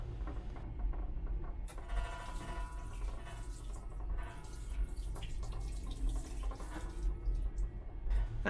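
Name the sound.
washing soap off hands under a running tap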